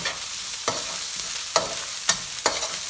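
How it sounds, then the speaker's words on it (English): Minced lemongrass and garlic fry in a hot pan, a steady close sizzle punctuated by four or five distinct spatula taps and scrapes, with no speech. "So now I'm adding this lemongrass, which I have chopped and minced"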